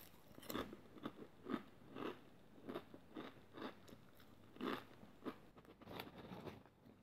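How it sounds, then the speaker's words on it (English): Lidl Deluxe sea salt and cracked pepper potato crisps are bitten and chewed close up, a series of sharp, brittle crunches at uneven intervals, loud against a quiet room with no talk. "Anyway, let's have a crunch."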